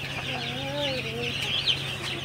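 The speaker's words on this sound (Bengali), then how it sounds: "আজকে হচ্ছে আমার ব্রয়লার মুরগির বাচ্চার বয়স 5 দিন।" Five-day-old broiler chicks give a steady stream of high, wavering peeps and cheeps, several birds calling over one another at close range above a low constant hum.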